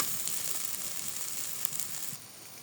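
Potato filling with cumin powder and spices cooks in a wok, giving a steady, soft sizzle and hiss throughout with a few faint scrapes and no talking.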